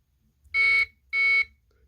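A buzzer on a vintage keyboard under restoration, driven through the CPU, sounding two loud, steady electronic beeps separated by a short gap, clear and close with no talk.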